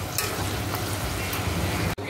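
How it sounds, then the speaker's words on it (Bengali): Potato pieces fry in mustard oil in a home kitchen pan, a loud, steady hiss and crackle of sizzling that briefly cuts out near the end before resuming. "দেখো আলুটা ভেজে নিচ্ছি"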